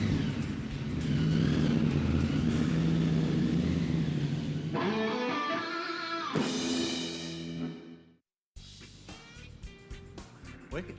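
The Project X hot rod's engine rumbles close by, then revs climb in rising sweeps as it pulls away, cutting briefly to silence before more engine noise follows.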